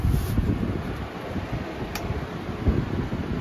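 Window air conditioner unit installed in a camper trailer, running on its low setting: a steady, soft, low whooshing hum of fan airflow, close and continuous, with no talking.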